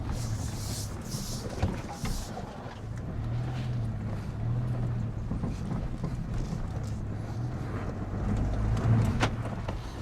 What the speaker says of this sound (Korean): 자, 이제 이렇게 해서 주행 한번 해볼게요.